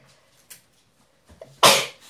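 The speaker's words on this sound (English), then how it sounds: "I gotta sneeze" A single sharp, loud sneeze breaks out at close range during hair braiding, preceded by a few faint sniffs and a quick intake of breath.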